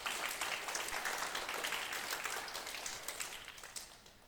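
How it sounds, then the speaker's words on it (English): A seated audience at a summer institute applauds its instructors with a steady wash of many hands, fairly distant and soft, slowly fading toward the end. "Let's give a round of applause for them again."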